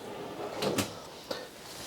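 A plywood pots-and-pans drawer in the kitchen of a 2016 DRV Mobile Suites 38 RSSA luxury fifth wheel RV opens or closes with a short knock around the middle, followed by a fainter tap near the end, both close by in a quiet room.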